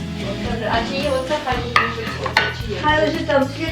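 Hollow knocks and clatters of natural wooden plates and dishware being set down on a festive Christmas table, several distinct contacts against a faint low hum.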